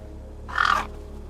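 A single crow's caw from the game Beyond A Steel Sky, one short harsh call rising out of a low, steady ambient drone and fading quickly.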